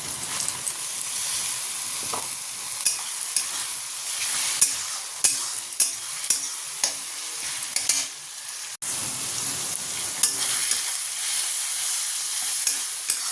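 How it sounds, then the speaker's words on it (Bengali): Onion, tomato and spice masala frying in oil while being stirred, a steady bright sizzle with repeated scraping stir strokes, close and loud, no talk. "সব মশলা দিয়ে দিয়েছি, এবার শুধু ভালো করে মশলাটাকে কষিয়ে নেব"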